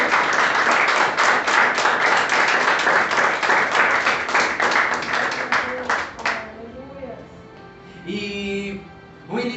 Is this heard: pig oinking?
no